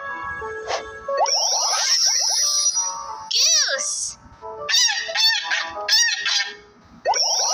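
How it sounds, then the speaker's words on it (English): Goose honking in a toddler animal-card app, several loud nasal honks and calls repeated in bursts, with a voice speaking between them. "Goose."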